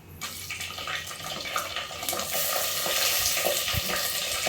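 Onions sizzle and crackle steadily in hot ghee and oil in a pot for veg biryani, a close, continuous frying hiss that grows slightly louder with occasional stirring sounds.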